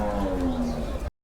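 Cattle low and moo at a busy Hozrotpur livestock market, one sustained near moo with steady harmonics lasting about a second before cutting off abruptly, set against crowd murmur.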